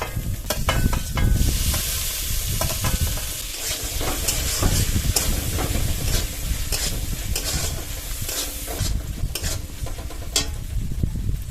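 Onions frying in a kadai with chopped tomato, chilli and coriander stems, a loud steady sizzle broken by repeated scraping and clacking stirring strokes, close up with no talk.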